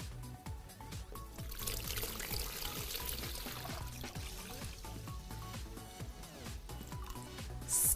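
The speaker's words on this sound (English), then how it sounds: "I'm gonna fill it with tap water." Tap water pours steadily from a faucet into a cooler, a continuous splashing, trickling stream heard close up and alone.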